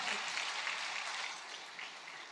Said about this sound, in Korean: 길을 만드신 하나님께 영광의 박수